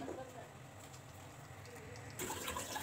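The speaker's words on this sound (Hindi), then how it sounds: "ये हम पानी डालेंगे चिकन को गलाने के लिए और आलू को गलाने के लिए।" Water poured into a cooking pot of chicken pulao with potatoes, a steady quiet rush of liquid that swells louder near the end, with a faint background hum.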